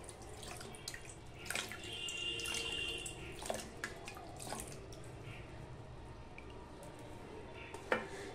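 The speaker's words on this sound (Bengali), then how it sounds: "এইভাবে আমি জল দিয়ে দেব।" Water being poured by hand over hot roasted brinjal (eggplant) in a bowl to loosen the charred skin, a soft steady trickle and splash at moderate level with occasional drips, no talking.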